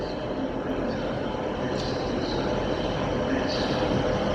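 A Class 800 train moves through Exeter station with a steady, loud broadband rumble and rail noise that holds level throughout, with faint higher hiss flaring briefly along the way.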